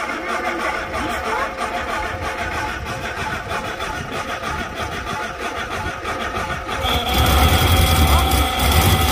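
A Morris Traveller engine turns over and roars into life after 44 years standing, fed by a quick squirt of fuel into the bowl, its rough mechanical noise steady and growing louder toward the end, with a voice talking over it.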